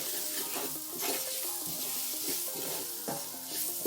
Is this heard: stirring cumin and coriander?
yes